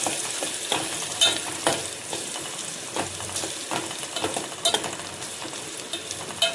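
Chillies and onions fry in a pan for masala Maggi, a steady crackling sizzle with intermittent scraping stir sounds, close and continuous with no voices.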